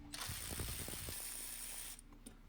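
A ratchet on a 14 mm bolt loosens a bracket that holds the brake hose on an Acura Integra, giving a steady, close mechanical clicking that stops sharply partway through and leaves a quiet tail.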